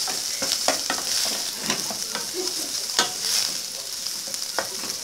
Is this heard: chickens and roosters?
no